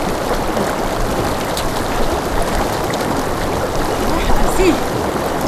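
Steady broadband rush of a rain-swollen river flowing in open countryside, continuous and fairly loud with no clear breaks, a faint voice briefly audible in the background.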